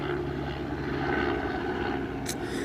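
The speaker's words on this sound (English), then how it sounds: "thank you, helicopter" A helicopter droning overhead, a steady low engine and rotor rumble holding at a moderate level with no voices.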